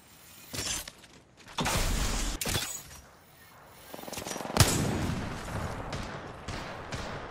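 Gunfire in the Apex Legends video game comes in loud bursts and rapid volleys at intervals, with sharp cracking impacts between quieter gaps and no clear talk.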